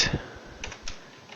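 Keys typed on a computer keyboard, a few light, scattered clicks close up over a faint steady background hum.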